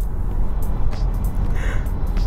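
A Porsche Taycan Cross Turismo electric car accelerates in a dense, low rumble of road and wind noise with little distinct motor tone, steady and close throughout.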